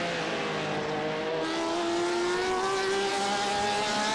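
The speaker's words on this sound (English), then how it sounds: "You heard the traction control kick in there just a touch, and Alex Ellis is ready to pounce." Race car engine in the iRacing sim at the Nürburgring GP circuit, a steady loud whine that dips briefly as traction control cuts in, then climbs again alone without speech.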